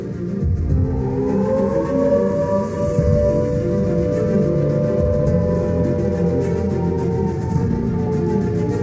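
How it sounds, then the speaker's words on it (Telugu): An emergency siren for alerting staff at an industrial site wails steadily and loudly, its rising and falling tone sustained throughout with no speech. "సైరన్ మోగించబడుతుంది."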